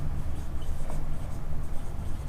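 Steady scratching of writing on a classroom board during a chemistry lesson, continuous and close over a low background hum, with no talking.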